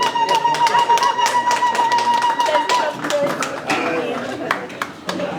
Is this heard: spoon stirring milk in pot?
no